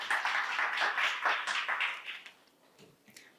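An audience at a social service exchange meeting gives a burst of applause, dense and steady for about two seconds before thinning out and fading into scattered claps.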